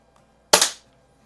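An Umarex Ruger Mark IV air pistol fires a single sharp, close crack that fades quickly in otherwise quiet surroundings.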